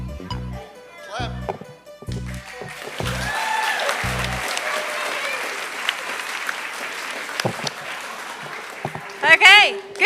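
A congregation claps along during a Unitarian Universalist Sunday service movement activity; the opening holds rhythmic musical beats, then broad scattered clapping runs through the middle, with voices and brief musical bits near the end.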